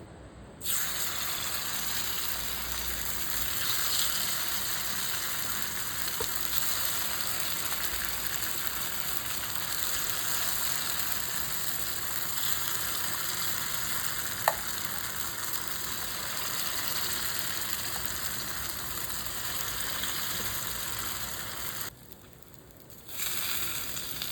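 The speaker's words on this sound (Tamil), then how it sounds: "இப்போ குழி பணிகாரம் கடாய் வச்சு அதில் ஊற்றி நம்ம குழி பணிகாரம் எடுக்க போகிறோம்" Kuzhi paniyaram batter sizzles steadily in the cups of a paniyaram pan, a continuous close-up frying hiss with no talking, broken only by a brief dip near the end.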